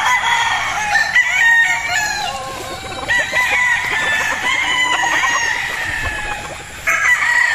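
Kelso gamefowl roosters crow repeatedly at a game farm, loud overlapping cock-a-doodle-doos with some clucking, close by and without speech.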